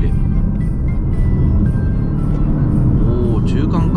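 Inside a 2024 Lexus LBX Cool accelerating through a lane change, a low engine and road rumble builds steadily beneath someone talking.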